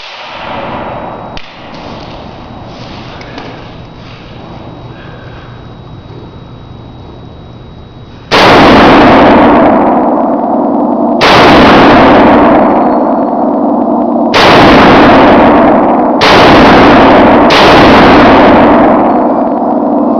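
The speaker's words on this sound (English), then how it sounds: "Gonna shoot it for function and accuracy." A camouflage-painted CheyTac .408 semi-automatic rifle with a super lightweight barrel fires five loud, booming shots. The shots are spaced a few seconds apart outdoors, and each blast rolls into a long echo, after a quiet stretch of faint background hiss.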